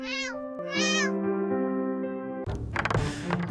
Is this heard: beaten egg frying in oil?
no